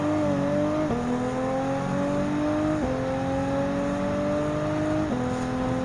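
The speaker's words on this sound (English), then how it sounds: "to be driving with the same GR Supra GT4 race car like the last time" A GR Supra GT4 race car at speed in Gran Turismo 7, lapping the Suzuka circuit, with a loud, steady engine drone that rises in pitch and then drops sharply at each upshift, three gear changes in all, heard alone.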